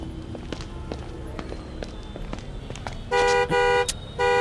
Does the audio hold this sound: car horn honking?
yes